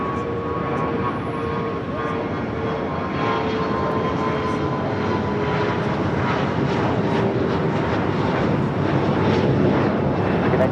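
An airliner takes off from runway 25 right at Los Angeles International Airport, its jet engines a loud, steady, broad roar that holds throughout with faint tonal whine layered in.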